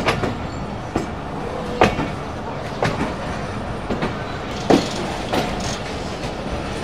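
A train pulls out of Rawalpindi railway station, wheels clacking over rail joints in irregular sharp knocks and rattles above a steady rumble, close by with carriage clatter throughout.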